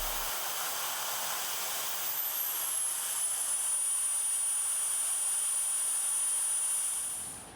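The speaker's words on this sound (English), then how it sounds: "Okay, so now we're outside with the BF10 Pro blower" A Fanttik BF10 Pro cordless blower runs outdoors in winter, a steady, loud, broadband airy roar with a high whine that rises and settles, holding for several seconds before cutting off near the end.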